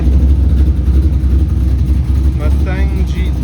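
A Mustang GT built with stage 3 and stage 4 cams idles with a steady, loud low rumble, close by, while people talk over it.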